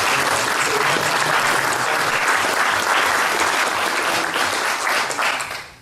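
An audience in a gallery applauds striking firefighters at a union event, with sustained loud clapping that fills the room and fades away at the end.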